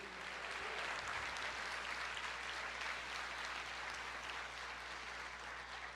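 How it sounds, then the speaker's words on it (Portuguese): A church congregation at a Bible study applauding, a dense sustained wash of clapping from many hands filling the room at even loudness throughout. "Você pode aplaudir o Senhor e dizer: eu creio."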